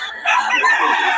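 A rooster crows once, close and loud, a short strained call among a flock of gamefowl kept by a seller.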